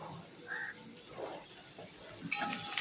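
Onion and green chili fry in a wok, giving a soft, low sizzle with light stirring and a faint clatter of utensils toward the end.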